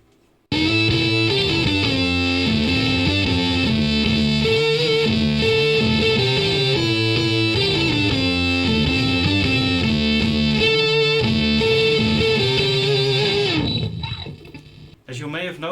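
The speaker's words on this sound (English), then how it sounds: "So let's ramp up the distortion and try that same riff again." Heavily distorted electric guitar riff played through an Arachnid pedal with the distortion turned up high, loud and sustained with dense buzzing harmonics for about thirteen seconds, then cut off by the gate into near silence before a brief return.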